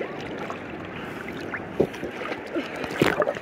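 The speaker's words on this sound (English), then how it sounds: "riding the big waves." Water splashes while people ride big ocean waves at a South Padre Island beach: a steady windy wash of surf with a few sharp, close splashes breaking through.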